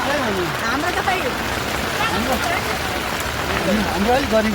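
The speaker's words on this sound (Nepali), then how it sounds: "यहाँ यस्तो भएर हालत खराब हावाहुरी पनि चलेछ पानी पनि परेछ" Rain falls with wind in Sauraha, Nepal, a steady close hiss of downpour continuing beneath voices talking.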